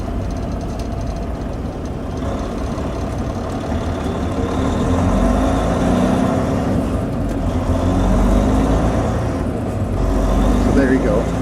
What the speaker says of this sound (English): what we're going to see on this next acceleration from the lights is the RPMs aren't going to go up quite as high